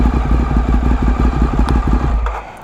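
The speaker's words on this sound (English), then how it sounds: "just turn off the bike." A 2011 Ducati Monster 796 ABS idles with a loud, lumpy, rhythmic twin-cylinder throb close by, then cuts off as the engine is switched off, leaving a fading rumble.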